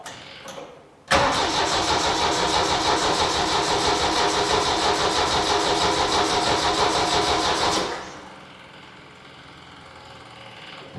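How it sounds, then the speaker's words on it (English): A 1972 Saab Sonett cranks briefly, then its engine catches and runs at a loud, steady, close roar for about seven seconds before settling to a quieter idle. "if the starter would like to turn"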